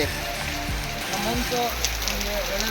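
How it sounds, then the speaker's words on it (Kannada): The season's first rain falls as an even patter and hiss on the ground, with someone talking over the steady downpour. "ಇವತ್ತು ಮಳೆ ಬರ್ತಿರೋದು ಒಂದು ವೇಳೆ ತುಂಬಾನೇ ಖುಷಿ ಆಗ್ತಿದೆ ಅದು ತುಂಬಾನೇ ಮೊದಲನೇ ಮಳೆ ಬರ್ತಿದೆ"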